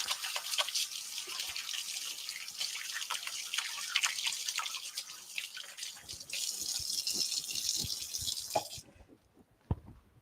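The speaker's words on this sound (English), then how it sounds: "I'll just wash my hands." Hands are washed under a running kitchen tap, a steady close hiss of water with splashing and dripping that cuts off near the end, leaving a few faint drips, with no one speaking.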